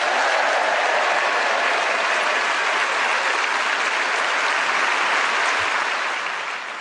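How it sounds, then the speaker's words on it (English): Studio audience at a radio panel game show applauds the week's winner, a sustained, loud, even roar of clapping that tapers slightly at the very end. "now a final round of applause to our winner this week"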